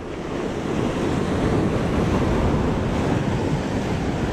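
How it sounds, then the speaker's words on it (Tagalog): Steady roar of ocean surf at Salalah, Oman, with heavy wind buffeting the microphone, a continuous wash of breaking waves and no talking. "Yan ang alon."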